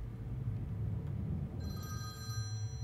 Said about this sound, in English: A phone ringing.